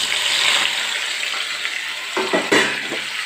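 Okra dropped into hot coconut oil in a pan, a loud close sizzling hiss with soft scraping stirs and a couple of clanks near the end, no speech.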